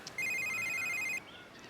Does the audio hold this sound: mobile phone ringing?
yes